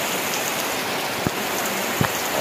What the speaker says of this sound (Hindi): ये पूरा बारिश गिर गया